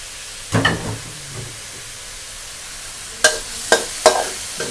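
Pork stir-fried with shrimp paste and coconut milk in a pan: sharp spatula scrapes and bursts of sizzling come close and loud, one early stroke, then a quick cluster of strokes over a low hiss.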